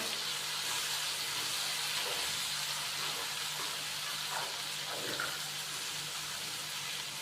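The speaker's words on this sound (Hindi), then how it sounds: "तो इसी ऑयल के अंदर अभी हम भिंडी शामिल करेंगे।" Okra frying in hot oil with half a kilo of chicken, giving a steady, loud hiss that runs without a break. A low constant hum sits underneath.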